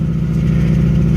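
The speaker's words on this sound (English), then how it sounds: "And the rattle you hear is actually the exhaust." A 2008 Subaru WRX engine idles steadily and close by. Its low, throbbing exhaust note carries a faint rhythmic rattle from the exhaust, and no one is talking.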